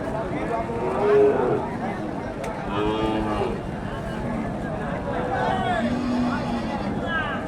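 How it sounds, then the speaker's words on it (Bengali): Several Sahiwal and local cows moo repeatedly, low drawn-out calls rising over a steady background of crowd chatter and people talking at a busy cattle market in Naogaon, Bangladesh. "অনেক বড় সড়ো গরু"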